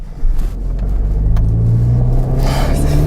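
A car passes close by with a heavy low rumble and an odd droning tone that swells midway, loud and steady against broad road noise, with no talking.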